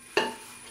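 Sambar being stirred in a pot, with jaggery added: a single short scrape-and-slosh of the spoon rises sharply, then fades into faint kitchen background, with no talking.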